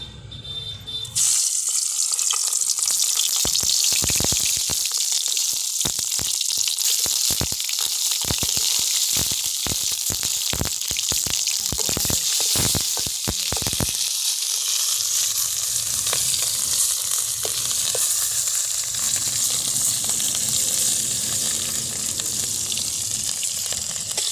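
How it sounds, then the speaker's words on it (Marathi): Bell peppers hit hot oil in a pan and set off a loud, close sizzle. The frying hiss carries on steadily, with stirring crackles for the first part that ease into a smoother, continuous sizzle. "तेलामध्ये मिरची टाकून घ्यायची बघा"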